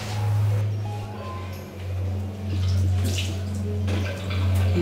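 Tap water running into a basin for handwashing, a steady rushing flow with slight surges and splashes, close and fairly quiet, with no talk.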